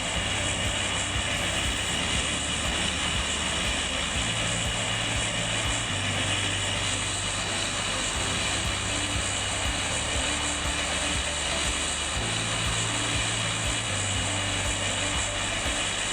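An airplane engine in a mobile battle game gives off a steady, loud droning hum that continues without a break, and its pitch steps up and down slightly over time.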